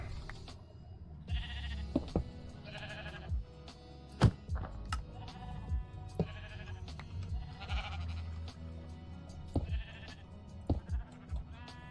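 Minecraft sheep bleat repeatedly in short, nasal calls spread across the scene, each bleat fairly close, set against a low background hum.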